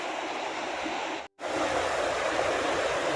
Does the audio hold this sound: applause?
no